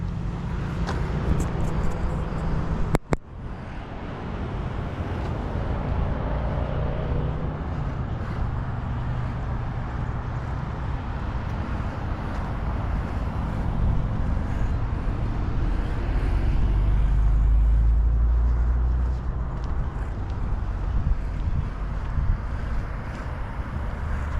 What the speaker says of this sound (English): There's the bus right here.